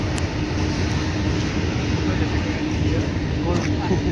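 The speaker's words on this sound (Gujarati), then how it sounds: "જો ટ્રેન આવી રહી છે" A passing Indian Railways train gives a loud, continuous low rumble that stays steady for several seconds, up close and dominating the scene.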